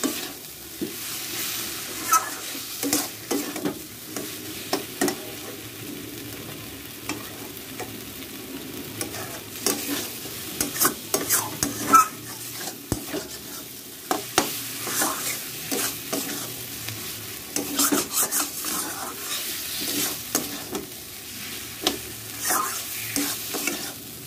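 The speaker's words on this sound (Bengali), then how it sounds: "আলু দিয়ে মশলাটা প্রায় কষে এসেছে।" Potatoes frying with spice masala in a pan give a steady sizzle under repeated scraping and stirring strokes throughout, close and with no voices.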